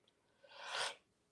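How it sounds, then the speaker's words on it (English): A single sneeze from a person, building from a sharp inhale into one breathy, explosive burst that fades quickly in a quiet room. "My best sneeze."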